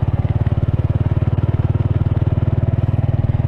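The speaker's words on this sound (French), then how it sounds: "maintenant on prend la moto et on va faire un petit tour dans les villages" A motorcycle rides through villages, its engine a loud, close, steady low putter with a fast even pulse that holds without pause.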